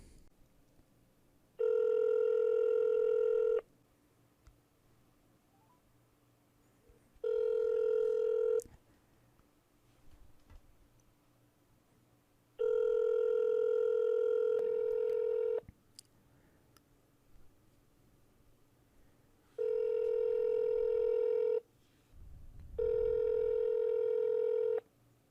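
A telephone ringback tone repeats five times in steady bursts of about two seconds each, separated by quiet gaps, as a call goes unanswered before reaching voicemail.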